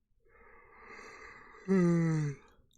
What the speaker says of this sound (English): That's a sleepy yawn, not because of the episode, just because it's getting late.